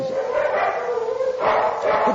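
A dog being hand-fed peeled egg gives loud, close, drawn-out whining yelps, with a sustained cry that swells again near the end.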